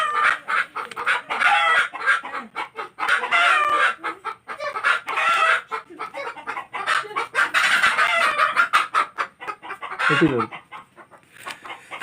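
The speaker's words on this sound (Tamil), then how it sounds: "இங்கே ஒரே கோழி தொல்லையாக இருக்கு" Chickens cluck busily nearby in loud, choppy bursts, and a rooster crows near the end.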